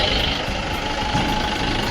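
A pickup truck engine idles at a market after reversing, a loud steady low rumble running without a break.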